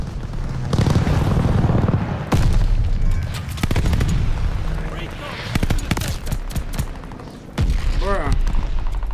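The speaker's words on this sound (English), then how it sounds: "Allies calling a mortar barrage." Mortar barrage in the video game Call of Duty Vanguard: loud booming blasts and crackling gunfire in repeated bursts over several seconds, with voices speaking among the explosions.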